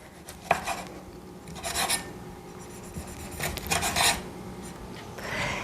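Knife thinly slicing a Roma tomato on a board, with a series of soft rasping cuts and light taps in irregular bursts, close and fairly quiet, with no talking.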